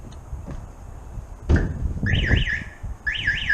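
A pickup truck's alarm system chirps and beeps as it is armed, a short electronic warble repeating twice after a door thud, close and fairly loud over faint background noise.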